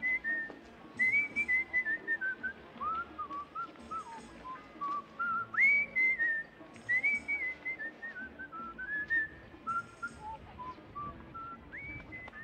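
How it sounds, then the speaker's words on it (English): A man whistles a wandering melodic tune in a 1957 film scene, with bright, sliding phrases broken by short pauses, close and clear with no talking over it. "I even like the way he whistles"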